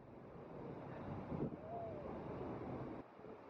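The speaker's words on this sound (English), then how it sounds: "We're literally behind the waterfall now." An Icelandic waterfall heard from behind the falling curtain of water: a steady, enveloping broadband roar that fills the whole clip, with a brief faint voice-like sound partway through and a slight dip near the end.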